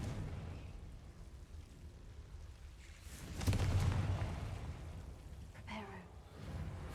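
The Confringo fire spell bursts in a video game with a sudden whooshing blast about midway through, followed by a rumbling tail that fades out, against low, quiet background ambience.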